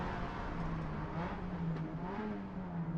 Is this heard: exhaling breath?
no